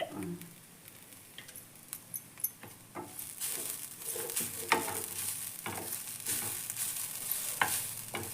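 Grated fresh coconut roasting in a pan while being stirred, with scraping strokes and light sizzling crackles that grow busier and denser over time, close and fairly quiet.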